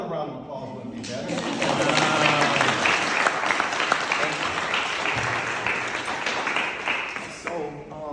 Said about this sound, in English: another round of applause would be better